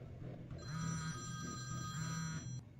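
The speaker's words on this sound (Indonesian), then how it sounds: "sudah terdengar dering telepon dari HP milik Kimberly" A mobile phone rings in the film Killer Weekend. The ringtone is a quiet, steady electronic trill that repeats in a regular pattern, with no voices.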